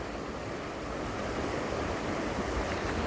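Water of Mission Creek rushing steadily outdoors, a broad continuous roar at moderate level with some wind, no voices.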